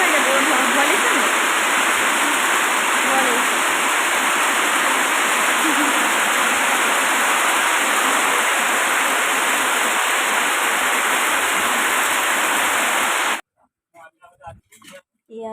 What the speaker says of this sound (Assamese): ডাঙৰ বৰষুণ দিছে